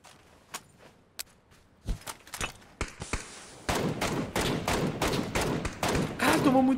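Gunfire in the battle royale game PUBG: scattered single shots at first, then a dense, sustained burst of rapid automatic fire that grows loud and continuous over the second half.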